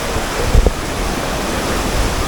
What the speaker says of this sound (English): The water is kind of rough.